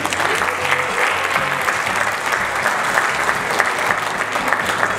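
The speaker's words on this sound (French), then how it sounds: "je voudrais que vous vous applaudissez d'abord" Sustained applause from an audience at a business awards ceremony in Dubai, steady dense clapping that fills the whole stretch without a break, with a faint crowd murmur underneath.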